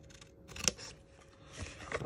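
Scissors trim cardstock for a handmade bunny box, a few quiet crisp snips close by with short pauses between cuts.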